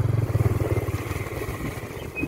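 A secondhand Sanchin motorcycle ridden along a narrow uphill footpath, its engine chugging close and loud with a rapid pulsing rhythm that eases toward the end.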